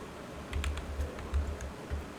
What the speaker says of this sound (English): I'm just smashing the keyboard and looking at the monitor.